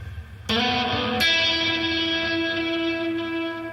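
An electric guitar rings out with two strummed chords through a Behringer DR400 pedal's plate reverb, the second left to sustain and bloom into a smooth, lingering reverb wash.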